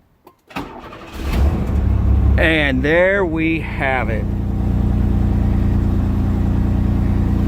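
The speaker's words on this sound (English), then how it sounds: "The car is now running." A 1993 Chevy Camaro engine cranks and catches, then settles into a steady, close running drone, with someone speaking briefly over it as it starts.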